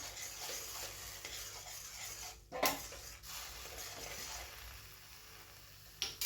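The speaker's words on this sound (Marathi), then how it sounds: "आता ही प्युरी चांगली परतून झालेली आहे पाहू शकता" Tomato puree for a tomato rice sautés in a pan with a quiet, steady sizzle, while a spoon stirs and scrapes through it, with a louder clank near the middle and another near the end.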